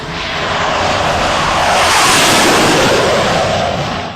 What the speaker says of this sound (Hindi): फिलहाल इस एक्सप्रेसवे पर सुखोई और मिराज का ट्रायल चल रहा है।